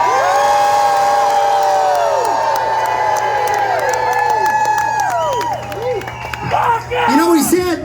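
Concert crowd at a rock show screaming, cheering and whooping loudly and steadily, a dense wall of voices that stays up front throughout and swells again toward the end.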